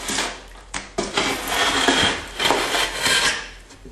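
A carpenter's knife scrapes and slices along the back side of drywall paper, making a close, continuous rasping cut with a few sharper scrapes, moderately loud, with no talking.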